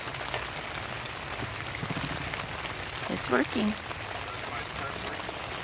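Steady rain patters on a tarp stretched over a tent at Cedar Hill State Park, Texas, a continuous even hiss throughout, with brief voices talking near the middle.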